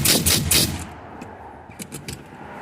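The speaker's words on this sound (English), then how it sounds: "I'm just going to whack it with the gun and hopefully it's going to go." Impact gun hammering on the shock absorber nut of a Saab 9-3, a loud rattling burst of rapid blows lasting under a second, followed by quieter scattered metallic clicks and knocks.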